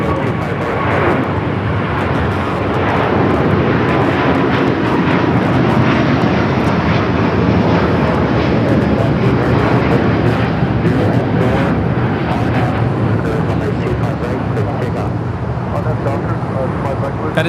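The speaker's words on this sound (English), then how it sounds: "That is Delta Airlines Flight 39 taking off to Shanghai on the A350-900" Departing LAX, a Delta Airlines Airbus A350-900 gives off a dense, continuous jet roar, loud and sustained from start to finish, while people chat under the noise.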